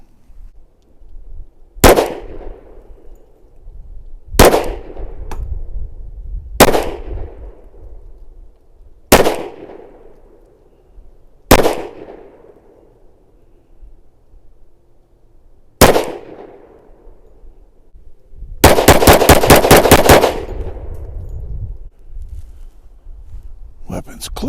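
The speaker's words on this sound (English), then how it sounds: "shoot about half the mag, and then I'm gonna see if I can get any of these off in rapid session" A SIG Sauer P320 XTEN 10mm pistol firing outdoors: six sharp, loud single shots spaced a few seconds apart, then a fast burst of rapid shots, with someone talking quietly in the gaps.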